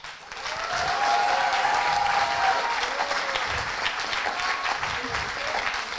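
An audience applauds a game's sound designers at a master's degree project defence, a steady wash of clapping that holds throughout, with faint voices mixed beneath it.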